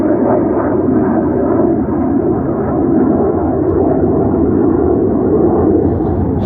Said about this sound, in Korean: 뭐 비행기 소리도 막 지나가고